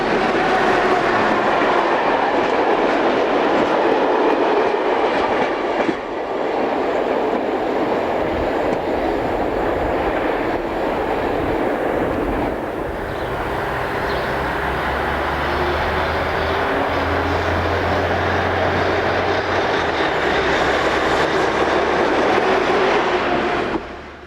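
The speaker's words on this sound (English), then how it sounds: "The last member of the class rounds the curve with a train for Belval-Usine." A CFL class 3600 electric locomotive hauls a train around a curve toward Belval-Usine, its wheels and traction noise making a loud sustained rumble throughout, with a low hum joining partway through.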